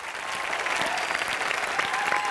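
Studio audience at an entertainment show claps in a steady, dense round of applause, moderately loud and unbroken throughout.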